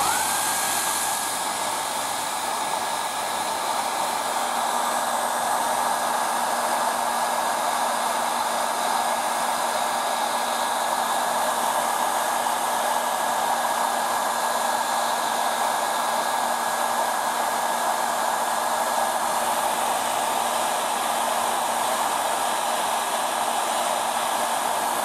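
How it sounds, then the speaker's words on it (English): A hair dryer blows continuously at a heat detector during a fire alarm system test, with a steady high whir and airy rush, close by and unchanging throughout. "I've got a hairdryer, so let's test heat detector."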